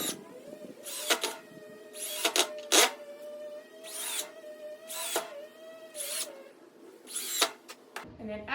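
Screws being driven into wood while assembling a pedestal table base, a power driver whirring in a steady tone broken by a run of short, loud bursts at close range, with no talk.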